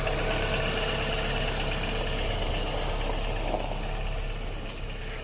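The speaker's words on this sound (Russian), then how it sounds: "Движок работает еще как часики" The engine of a written-off car with a hanging bumper, broken lamp and bent fender idles steadily in a low, even hum with faint knocking, heard close by with no speech.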